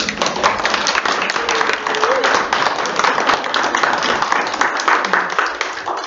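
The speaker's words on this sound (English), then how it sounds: "I think we should all give her a round of applause." A library crowd at a community event applauds a Diné poet and storyteller, with steady, moderately loud clapping from many hands sustained throughout and a faint voice briefly heard underneath.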